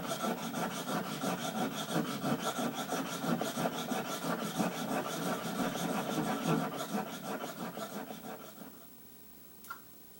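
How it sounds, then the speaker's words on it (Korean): A plane blade being sharpened on a diamond whetstone, with rhythmic back-and-forth scraping strokes that stay steady for about eight seconds, then stop, leaving near silence with a faint tap. "이 하얀 선이 없어질 때까지 다이아 숫돌에 밀어야 날끝이 지금 직선이 되는 거죠."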